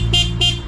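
Two loud blasts from a new dual horn fitted to a Suzuki Every Wagon, sounding close up in quick succession with a short gap between them and no voices.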